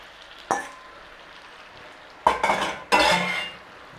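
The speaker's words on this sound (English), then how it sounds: "Let's have that stirred in." Beef and mushrooms stirred in a pan with a metal utensil, giving a few distinct scraping clinks: one short knock early, then two longer scraping strokes, close over a faint background.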